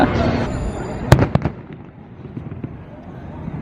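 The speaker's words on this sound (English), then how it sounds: "So, just watched the fireworks." A Disney fireworks display crackles and booms with a cluster of sharp bursts followed by fainter popping as the noise dies away, heard at a distance in the open air.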